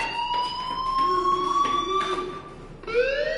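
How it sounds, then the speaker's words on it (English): A school fire alarm in the video game Life is Strange wails steadily with rising, sliding electronic tones, loud and continuous throughout with no speech over it. "do you hear that fire alarm? That means you should be outside."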